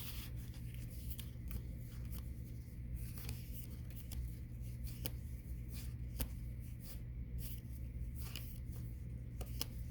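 Tarot-style cards being shuffled and flicked through by hand during a card reading, a steady soft rustle with scattered sharper card snaps across the whole stretch, close and fairly quiet, no talk over it.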